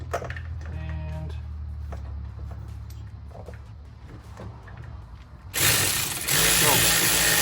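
A 14 mm socket ratchet turning a nut on a car during a ZF5 transmission swap: a run of close, sharp clicks over a low hum, then a sudden louder burst of broad noise near the end.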